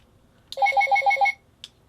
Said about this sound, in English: I assume that means it's armed, because that's a pretty comical sound to come out of a gigantic missile